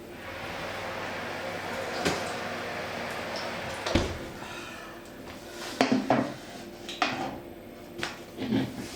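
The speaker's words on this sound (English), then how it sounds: "Stick them in a colander and give them a good old shake to get roughen up the edges and make them kind of fluffy" Boiled potatoes rattle and thump in a colander as it is shaken hard, giving a few irregular clattering bursts over a low kitchen background, with scattered metallic knocks and scrapes.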